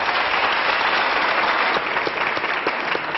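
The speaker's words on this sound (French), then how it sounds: "On l'applaudit, Jean-Marie Bigard." A French television audience applauds a stand-up comedian with steady, even clapping from a large crowd that stays continuous and fairly loud throughout, somewhat muffled as on an old archive broadcast.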